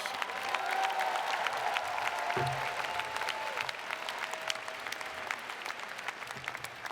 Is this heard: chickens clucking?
no